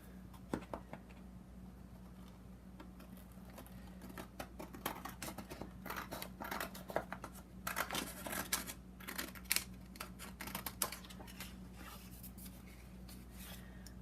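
Scissors snipping around a paper template for a composition junk journal, a steady run of small, close, soft cuts and rustles at low volume with no talking.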